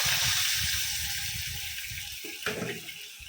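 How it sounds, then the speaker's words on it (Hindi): Kokum water, the soaked kokum liquid for a Goan fish curry, is poured into a hot pan, making a steady close splashing gush that breaks off near the end with a short clatter. "कोकम का पानी डाले"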